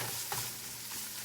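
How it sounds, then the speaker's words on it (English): Hamburger meat browns in a pan with a soft, continuous sizzle and the occasional scrape of stirring, heard close and steady with no talking. "Continue cooking until the meat is completely browned"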